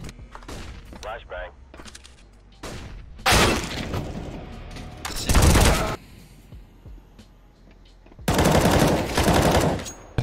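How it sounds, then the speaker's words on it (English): Flashbang grenade going off in Counter-Strike: Global Offensive, heard among several loud, sharp bursts of game gunfire and blasts separated by quieter gaps, with a player's voice talking in between. "Flashbang. One more."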